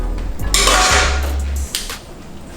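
Strained seafood linguine tossed into a pan on the stove, clattering and scraping against the metal in a brief busy burst of pan noise.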